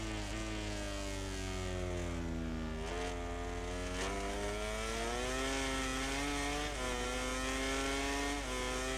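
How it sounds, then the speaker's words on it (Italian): A Honda MotoGP bike in the MotoGP 17 video game screams at high pitch, its engine note rising through gears and dipping at each shift, loud and continuous. "la Honda è in assoluto il motore che emette il suono più alto, come rombo, più acuto."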